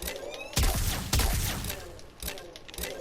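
Fulmin gun firing in Warframe, a few sharp close shots in quick succession over a steady bed of game noise, fairly quiet overall.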